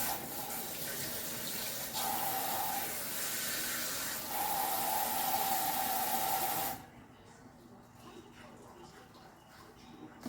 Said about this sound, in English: Okay, rinse my fingers off.